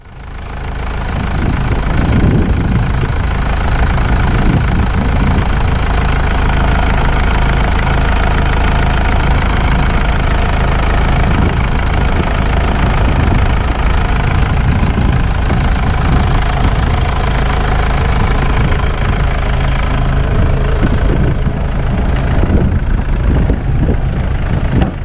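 A car engine idles steadily right after starting, a loud, continuous low rumble with a slight knocking pulse running through the whole stretch, with no one talking over it.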